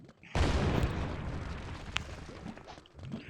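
A grenade explosion in the video game Real Gangster Crime bursts in as a loud, sudden broadband boom, then rumbles and decays for a few seconds with a brief sharp crack partway through.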